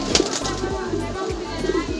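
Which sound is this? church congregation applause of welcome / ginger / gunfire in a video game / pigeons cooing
pigeons cooing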